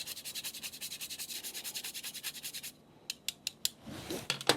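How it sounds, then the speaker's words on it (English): Nutmeg is grated over eggs with a sugar, salt and vanilla mix for a date custard pie, a fast run of rhythmic rasping strokes followed by a few slower, separate scrapes, close and fairly quiet. "I'm going to grate in a little bit of nutmeg"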